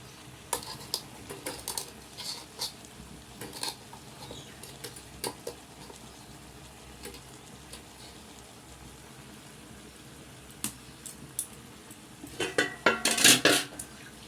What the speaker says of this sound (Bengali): দিয়ে এবার ভালো করে নাড়তে থাকবো